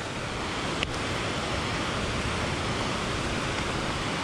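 Steady broadband rushing of Deep Creek in the Great Smoky Mountains fills the whole stretch, constant and fairly loud, with one brief click early on.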